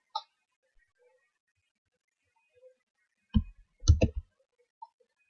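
Computer keyboard keys pressed in quick isolated clicks, a faint tap at the start, then a short cluster of several close, crisp key presses a few seconds later, in otherwise near-silent surroundings.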